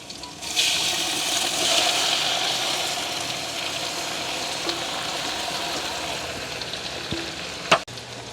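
Tomatoes go into a pan of green chillies already frying, and a broad, steady sizzle fills the sound outdoors in a village kitchen, with a couple of sharp clatters near the end.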